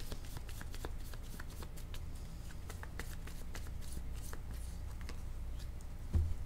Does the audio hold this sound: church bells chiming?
no